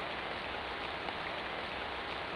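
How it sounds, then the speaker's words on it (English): Heavy rain falls in Clock Tower, a dense, steady, even hiss that fills the whole moment without a break or any other sound. "Rain. Lots of rain."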